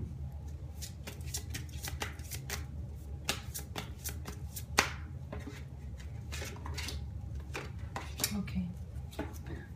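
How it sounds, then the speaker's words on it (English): A deck of reading cards is riffled and reshuffled by hand, giving a steady run of crisp flicks and snaps close by, with a quiet room hum underneath and no talking. "Okay, we have quite a few cards here. I'm just going to reshuffle."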